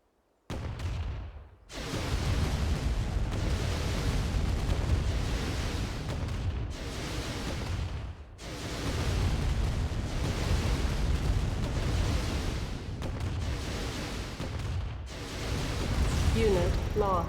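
An ion cannon strike in the Command & Conquer Remastered video game, heard as a long roaring rumble of blasts. It comes in several sustained loud waves with brief dips between them, filling the whole stretch.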